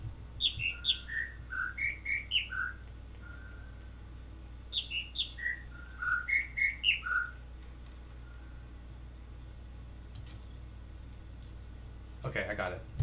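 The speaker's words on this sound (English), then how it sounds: "there's two of them singing at the same time. Two birds." In The Witness video game, two birds sing together in two clear bursts of bright, descending chirps and whistles, separated by a quiet pause, followed by faint rustling and a brief click near the end.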